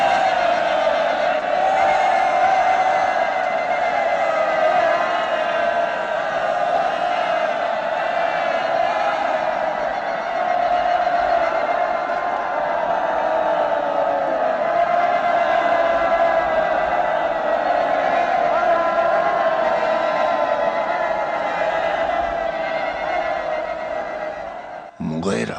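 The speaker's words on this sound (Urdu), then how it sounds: "بجاؤ تالیاں، جشن مناؤ، خوشیاں مناؤ" A crowd in a historical Islamic drama celebrates with sustained cheering and shouting, a dense, loud wall of voices that holds steady for about 25 seconds before cutting off.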